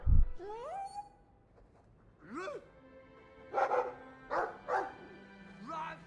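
A dog in the Dragon Age 2 video game gives several short barks and yips in separate bursts, close and clear, mixed with game voices.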